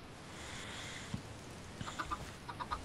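A chicken in Minecraft, a video game, gives a few short clucks near the end, brief and fairly faint over a quiet background.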